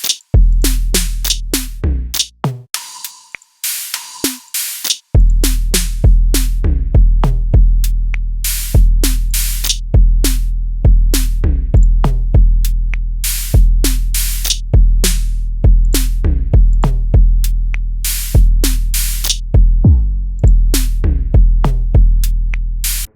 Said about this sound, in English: it's gonna cycle through all of the FAC drum kit sounds